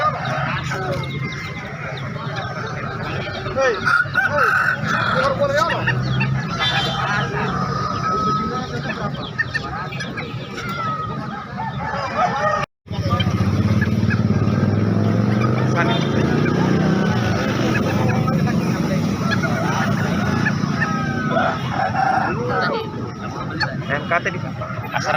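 Bangkok chickens and roosters clucking and calling in a busy poultry market in Makassar, with constant crowd noise and people talking close by, and a brief cut partway through.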